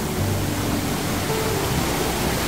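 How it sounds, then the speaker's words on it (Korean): A small waterfall in the Gumangyegok stream valley on Gumansan, Miryang, gives off a loud, steady rush of falling water that carries on unbroken and close, with no voices. "저기 폭포 있네"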